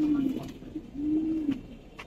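Silver military pigeons coo close by, two soft throaty coos in quick succession with faint background noise.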